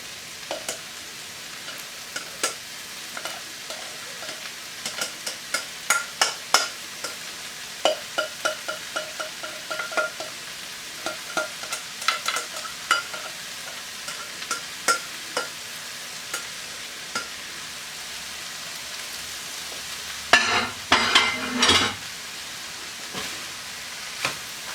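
Pork fried rice stir-fried in a pan gives a steady sizzle with repeated scraping and tossing clicks of the spatula, and a louder burst of frying near the end.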